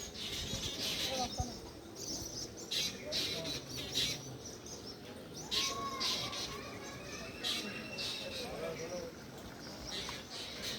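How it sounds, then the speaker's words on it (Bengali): A huge flock of birds gathered over swarming termites fills the air with dense, overlapping chirps and tweets, some near and some farther off, while a voice talks over the chorus at times. "দেখো অজস্র পাখি, অজস্র পাখি, এত পাখি"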